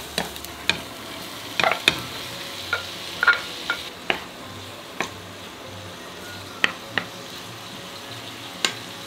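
Sweet, spicy basil sauce for Asian-style beef stir-fry simmering in a pan: a soft continuous sizzle with regular sharp taps and scrapes of a utensil scattered across it.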